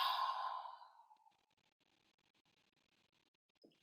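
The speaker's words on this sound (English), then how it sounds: "breathe in through your nose, hold, and then exhale through your open mouth" A single long breath is exhaled through an open mouth during a calm breathing exercise. It is a soft, airy sigh fading out over about a second, followed by near silence.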